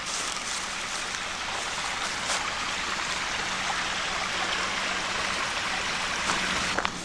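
A small, shallow trail stream flowing over rocks, a steady close trickle and babble with no talking.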